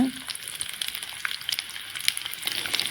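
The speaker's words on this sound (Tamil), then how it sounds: "சின்ன வெங்காயம் போட்டுட்டு எண்ணெய் ஊற்றிக்கோங்க நல்லா வதங்க விடுங்க" Small shallots sauté in hot oil in a pan, giving a soft, steady sizzle with scattered light crackles and pops, fairly faint, with a brief low thump at the very start.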